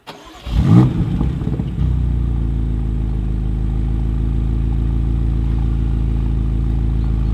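A 2024 BMW X5M Competition starts up with a brief rising rev, then settles into a steady, loud, deep engine drone as it drives on a German road.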